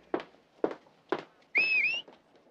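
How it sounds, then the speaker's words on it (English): A person gives a short rising whistle, close and clear, after three soft footsteps or knocks, in an indoor television drama scene. "Did you just whistle at me?"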